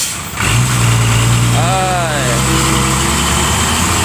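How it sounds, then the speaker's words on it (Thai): A steady tractor engine drone runs throughout with a low hum, close and loud, under a voice speaking. "ต้องใช้รถไถช่วยครับ"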